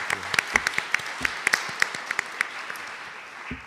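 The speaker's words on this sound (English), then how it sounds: "So a round of applause for James." Audience applause at a book festival panel, scattered sharp claps over a steady crowd wash, fading toward the end.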